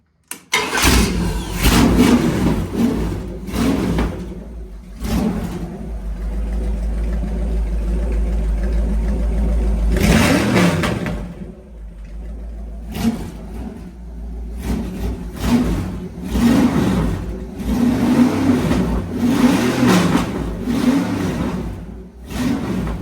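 A small block Chevy V8 starts and runs after an oil prime and distributor install, loud and close, with a steady rumbling idle broken by several revs and throttle blips.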